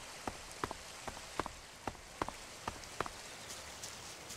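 Rain in the video game ELEX patters steadily, with quiet, evenly spaced droplet taps standing out over a soft hiss of falling water.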